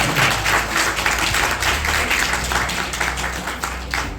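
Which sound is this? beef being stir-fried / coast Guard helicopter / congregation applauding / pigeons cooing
congregation applauding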